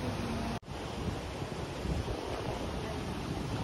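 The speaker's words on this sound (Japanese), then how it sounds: "すごい川の音聞こえる ね" Steady rushing of a river flowing beside a stone outdoor hot spring bath at an Okuhida onsen, a constant broadband roar with no voices, briefly cut by a short dropout near the start.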